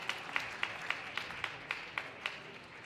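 A squash crowd applauds after a hard-fought first game, with steady, sparse claps in an even rhythm from a modest audience in the arena.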